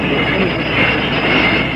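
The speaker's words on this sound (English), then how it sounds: "Take the subway home tonight." New York City subway train rumbling steadily and loudly at close range, a dense continuous roar of rail noise with wheels squealing faintly over it, no voices.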